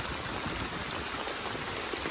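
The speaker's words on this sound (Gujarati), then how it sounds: "જો વરસાદ પડે છે અત્યારમાં ધોમ ધોકા" Heavy rain pours down in a dense, unbroken hiss, steady and enveloping with no pauses.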